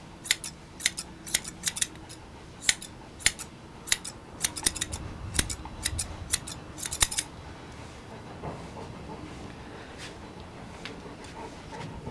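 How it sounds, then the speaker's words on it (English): Quick sharp snips of scissors trimming a Bouvier des Flandres dog's head hair, a run of clustered close clicks over several seconds, then quiet room hush. "So I put the scissors flat on top of the head and cut the parts that stick out away"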